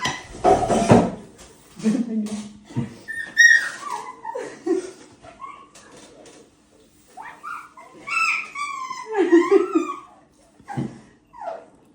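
A pet dog named Black whimpers and yips at mealtime, begging for meat, in short whiny bursts mixed with occasional dish clatter while several people talk around it throughout.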